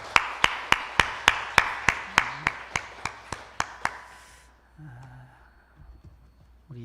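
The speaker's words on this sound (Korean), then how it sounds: "오늘 특순해 주신 우리 집사님께 감사의 박수 드리겠습니다" Church congregation claps in thanks after a deacon's special music at a Sunday service, a steady run of about fifteen sharp, evenly spaced claps that fade out, followed by quiet room noise and a brief low voice.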